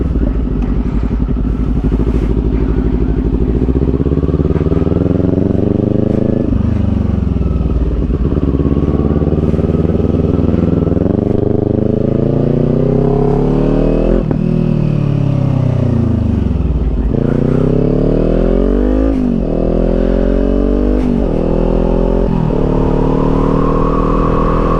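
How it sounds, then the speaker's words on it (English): A Kawasaki Z400 motorcycle runs loud and close during a group ride meet, its engine note climbing and dropping through repeated revs and gear changes over a constant roar. "That bike sounds so good."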